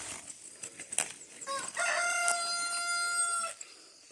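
Backyard chickens on a rural farm cluck and rustle, then a rooster lets out one long, loud crow close by.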